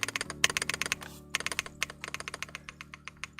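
Computer keyboard keys on a new keyboard clack in a quick, uneven run of about twenty close, crisp presses, some doubled, with a low steady hum beneath.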